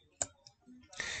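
A computer mouse clicks sharply twice near the start in a quiet room, followed by a brief burst of brighter, busier clicking noise.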